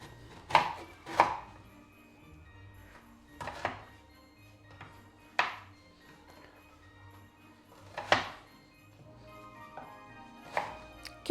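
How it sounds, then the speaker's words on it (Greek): Potatoes and celeriac are cut into pieces with a knife on a kitchen board, giving about nine sharp, separate chops spaced unevenly over a quiet background, close up and with no talking. "και μετά στα 4, περίπου τέτοια κομμάτια. Και το ίδιο θα κάνω και με τη σελινόριζα."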